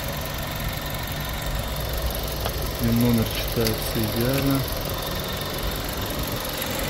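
A 2013 Audi A3 with a 1.4-litre turbocharged petrol engine idles with an even, steady hum in the engine bay while someone speaks over it.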